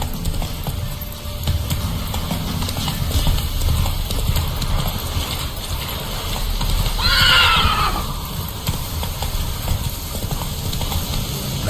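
In the Witcher 3: Wild Hunt video game, the horse Roach gallops with a continuous rapid clip-clop of hooves, and a loud whinny rises midway through the run.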